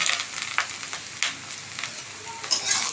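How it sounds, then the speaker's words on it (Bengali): Eggplant fries in hot fish oil in a kadai, giving a quiet, continuous sizzle broken by sharp crackles and scraping as it is stirred. "আগে একটু বেগুনটাকে তেলের মধ্যে ভেজে নেব।"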